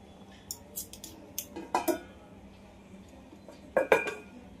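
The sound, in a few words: lid placed on cooking pan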